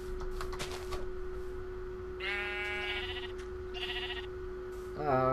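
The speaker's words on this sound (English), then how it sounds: "Where are those sheep again?" Sheep in a video game give a couple of clear, wavering bleats against a constant low hum and background game noise, with some clicking sounds early on.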